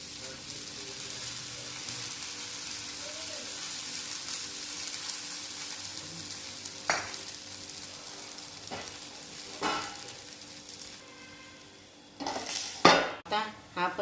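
A spinach paratha fries with oil poured into holes in the dough, a faint, low sizzle that runs on. Soft clinks and a few taps of a pan and utensils come in near the end.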